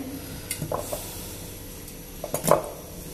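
A spoon scrapes and clinks against a bowl while chicken marinade is mixed, making a few soft, close taps and brief clatters with quiet gaps between them.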